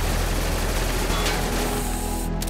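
Gunfire from a RimWorld battle, a steady dense rattle of game weapon shots filling the whole stretch at high level, with no voices over it.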